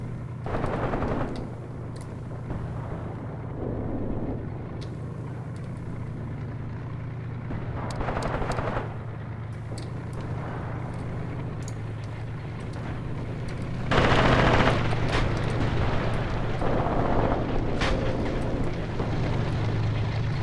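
Tank guns fire in the Graviteam war game, several sharp heavy blasts spread across the span with a steady engine drone and battle rumble underneath.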